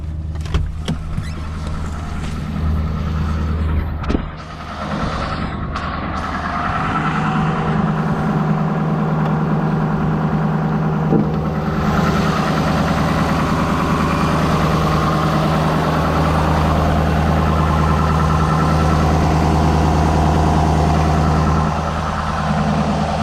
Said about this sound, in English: It is idling kind of high.